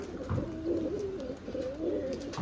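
Freshly bathed pigeons coo softly in low, rolling, repeated calls, fairly close, with a faint background hiss and no talking.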